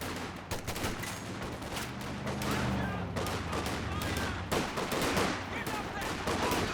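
Dense machine gun fire from the Company of Heroes 2 battle game rattles continuously amid explosions and other gunfire, forming a loud, layered wall of combat noise with sharper bursts near the end.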